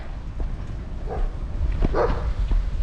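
A few dog barks and yips, moderately close, over low rumbling background noise.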